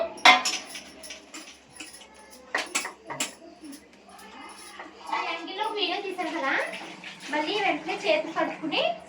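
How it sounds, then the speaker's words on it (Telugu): Clinking and scraping of dishes and utensils while plates are scrubbed, with a person talking over the clatter. "ఒక ప్లేట్ కానీ ఏమైనా తోముకుంటాను"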